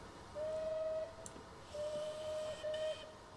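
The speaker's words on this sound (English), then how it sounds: "It's got a lovely whistle as well, in fact." A steam whistle of a Bulleid Light Pacific West Country locomotive in Train Simulator Classic sounds as a long steady blast, then a second longer blast and a short third toot, over a quiet background of rumbling engine hiss.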